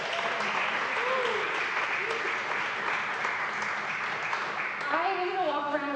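An audience applauds steadily and loudly, with dense clapping throughout and a brief whoop or cheer rising near the end, no talking over it.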